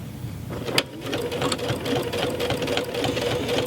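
Serger machine stitching binding onto a quilt, its blade trimming alongside the fold; a steady, close mechanical whirring runs throughout with a brief louder click near the start.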